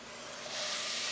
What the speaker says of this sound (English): we're going to go ahead and cook it in a pan.